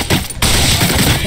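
Rapid bursts of GTM SMG fire in a shooter game, loud and close, a short break then sustained automatic shots filling the moment.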